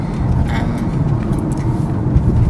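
Car driving home, a steady loud low road and engine rumble from inside the cabin, continuous and even for the whole short stretch, with faint speech beneath.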